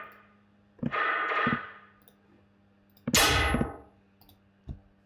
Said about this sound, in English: So that's that sound. So that's the gun bass.